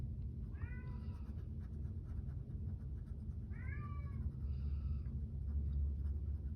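A pet cat named Lionel meows twice, a pair of drawn-out, wavering cries a few seconds apart, faint against a steady low room hum.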